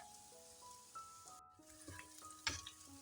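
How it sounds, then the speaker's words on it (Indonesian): Shallots and garlic frying in a pan, a steady soft sizzle with faint stirring scrapes and a few louder crackles, heard alone without talk. "Nah, kita tumis dulu nih bawang merah bawang putihnya sampai harum ya."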